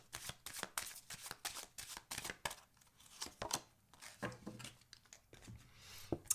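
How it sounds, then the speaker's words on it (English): Goddess Oracle cards are shuffled by hand in a quiet room, a quick run of crisp riffling and slapping bursts repeating steadily for several seconds, close and soft with no talking. "let's also pull a Goddess Oracle card for Capricorn for the month of March"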